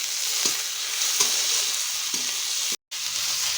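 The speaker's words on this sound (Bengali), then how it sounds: "লাল করে ভেজে নেব পেঁয়াজটা" Onions fry in a pan with a loud, steady, close sizzle and light stirring scrapes, broken by a brief gap near the end, with no talking.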